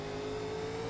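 A race car engine droning at a steady high pitch in an iRacing video game at North Wilkesboro, a continuous loud hum with no pause over one second.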